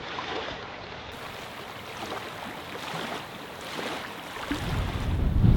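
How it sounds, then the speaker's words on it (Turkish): Wind-driven waves lap and churn on a lake in Sivas under gusty pre-rain wind, a steady rough wash with microphone buffeting that swells louder toward the end. "Baya dalga çıktı."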